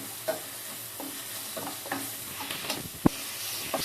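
Steady sizzling of garlic frying in a pan for paruppu rasam, with repeated scraping stirs and one sharp clack of a utensil against the pan.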